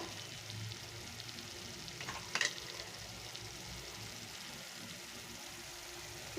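Spice paste frying in a pan for a coconut prawn curry, with turmeric and chilli powder being added: a steady close sizzle runs throughout, with a brief brighter stir or scrape midway and no talking.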